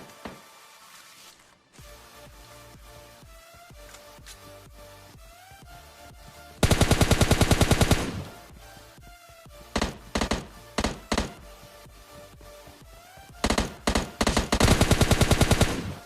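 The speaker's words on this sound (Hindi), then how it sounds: "सामने की साइड से चलने की आ रही है आवाज गोलियों की" Bursts of rapid video game gunfire, loud and close, with automatic rattles separated by single heavy shots and quieter game ambience between.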